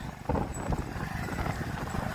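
Horse hooves clip-clop in a steady, fairly close rhythm as riders travel together at a horse race in Vondh, Kutch, over a low background rumble, with no talking.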